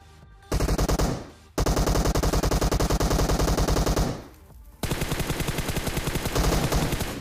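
Rapid bursts of video game automatic gunfire in long sustained volleys, loud and close, with brief pauses between strings of shots.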